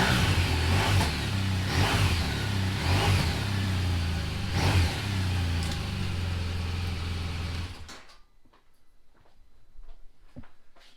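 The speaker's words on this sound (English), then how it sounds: "Bike starts okay." A BMW R1200RT LC motorcycle engine runs with a loud steady rumble and a few rev swells, then cuts out abruptly, leaving near silence with faint knocks and rustles.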